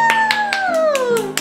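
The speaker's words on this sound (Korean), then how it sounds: "박수!" Quick rhythmic hand claps, roughly five per second, sound close and loud under a drawn-out, falling vocal tone.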